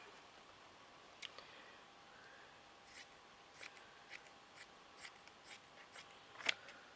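Scissors snipping a square from lacy material, a series of quiet close crisp cuts at a steady pace over faint background hiss, no talking.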